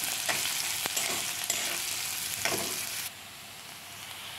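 Peanuts going into a hot pan for upma, with a continuous bright sizzle of frying oil and a few sharp pops and clicks as the nuts land and crackle.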